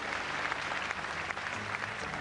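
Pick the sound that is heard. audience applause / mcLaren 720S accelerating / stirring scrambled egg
audience applause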